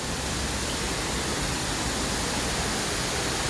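Waterfall in Hong Kong Park, a constant dense rush of falling water, loud and steady throughout with no voices over it.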